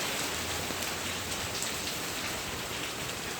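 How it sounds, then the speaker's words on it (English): Steady rain mixed with hail falling onto the ground outdoors, a continuous close hiss of drops with no talk. "Aw, the rain's lighting up now."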